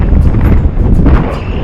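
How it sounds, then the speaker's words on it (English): Strong wind roars and buffets against the microphone on a mountainside, a dense continuous rumble with gusty fluctuations and no talking. "It's so windy. It's windy out. It's super windy."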